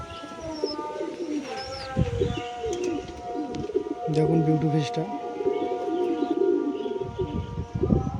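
A male pigeon coos in soft, rolling phrases nearby while someone talks over it.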